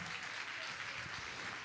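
A church congregation claps together during a worship service, producing an even, continuous patter of applause at moderate to soft volume with no voices on top.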